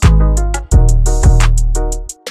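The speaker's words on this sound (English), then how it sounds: "Lastly, add a crash." An FL Studio plugg beat, with a crash cymbal added over heavy 808 bass hits, bright hi-hat ticks and synth melody, loud and dense throughout.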